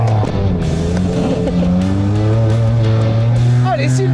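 A road car fitted with Formula 1 tyres brakes hard into a corner on a race track, its loud engine tone dropping and shifting under a voice, with tyre squeal near the end.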